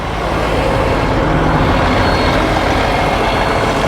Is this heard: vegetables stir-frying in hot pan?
no